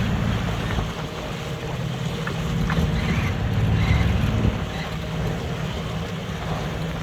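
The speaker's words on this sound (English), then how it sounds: "Side on into the waves, a little bit choppy." A sailboat on a sailing cruise in the Bay of Colwyn runs side-on into choppy waves, with constant wind buffeting the microphone over rushing water and hull splashes throughout.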